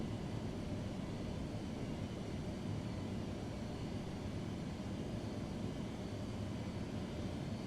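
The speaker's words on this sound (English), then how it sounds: "We get this down, landing gear down." Simulated airliner engines roar steadily in a Prepar3D v4.3 flight simulator as the default plane comes in to land with gear down, a continuous broadband rumble with no voices.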